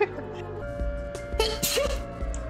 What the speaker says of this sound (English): That was the gayest sneeze.